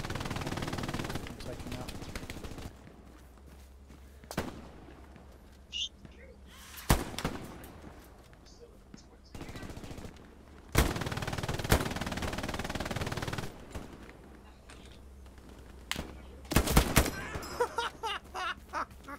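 Machine gun fire in the WWII shooter Hell Let Loose, coming as scattered bursts and single shots, some close and loud, others more distant, while players talk over voice chat.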